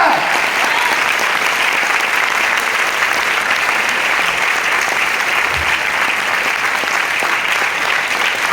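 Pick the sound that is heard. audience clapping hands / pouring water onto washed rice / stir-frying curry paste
audience clapping hands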